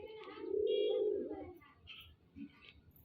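Pigeons cooing at close range, a soft low throaty coo swelling and fading, followed by faint scattered chirps and rustles in a quiet space.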